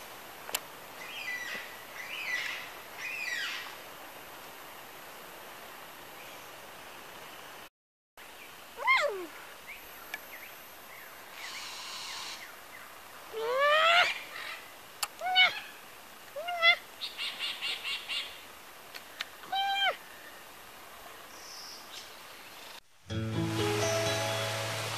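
Lyrebird near Fitzroy Falls giving a varied series of loud whistles, sweeping calls and rapid mimicking phrases, scattered in bursts with pauses between, heard alone over a faint steady background hiss.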